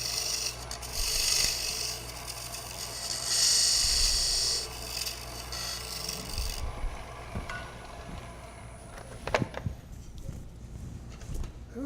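A wooden tenon is turned and tapered on a lathe at a live woodturning demonstration, heard as close, hissing scraping bursts of tool on spinning wood, followed by quieter handling knocks.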